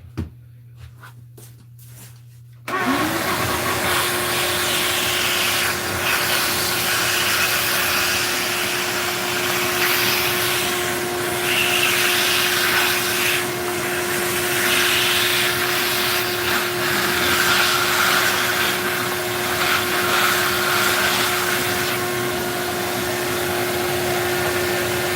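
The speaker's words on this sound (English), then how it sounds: "I'm gonna turn the vacuum on here." A vacuum cleaner switches on after a few quiet seconds and then runs loudly and steadily nearby, with a constant motor whine and airy roar holding for the rest of the stretch.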